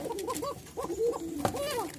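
A Basiraj pigeon cock, paired with a hen, coos in repeated close rolling calls, several quick phrases in succession with a sharp tap between them.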